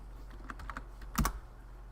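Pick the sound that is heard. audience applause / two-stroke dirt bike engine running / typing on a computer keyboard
typing on a computer keyboard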